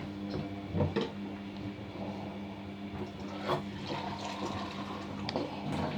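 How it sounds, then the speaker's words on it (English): Soft trickling and splashing of water poured in short bursts into flour for pasty pastry, quiet and close, with faint handling noises between pours. "I don't pour all the water in at once. I pour a little in at a time"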